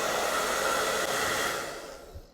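Heat gun blowing on a Springfield Prodigy handgun grip being fitted: a close, steady airy whoosh that tails off and fades out at the end.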